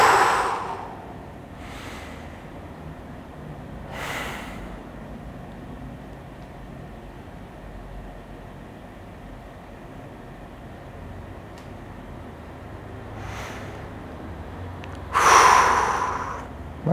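Heavy breathing during a stretching exercise: a few loud, breathy exhales spaced several seconds apart, the strongest at the start and near the end, over a quiet room hum.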